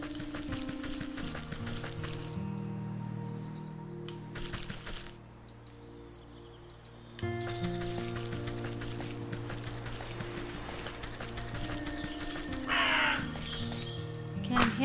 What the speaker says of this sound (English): Okay, I'm hearing a bird.